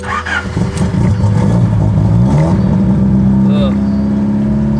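A Honda Prelude engine with a suspected fuel delivery fault catches and starts, rising into a close, loud idle with a brief rev, and a voice is heard near the car.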